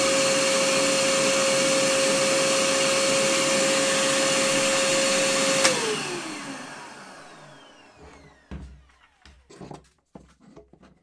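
A Bosch PFS 3000-2 electric paint sprayer runs with a loud, steady vacuum-like whine, then switches off and winds down over a few seconds, followed by scattered handling clunks and knocks nearby.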